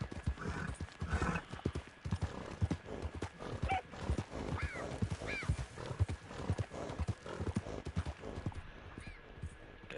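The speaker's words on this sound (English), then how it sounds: "I feel like my horse is moving slow." Horse in Red Dead Online trotting with rapid rhythmic clip-clop hoofbeats throughout, with a couple of whinnies midway, moderately close, and a player speaking faintly at times.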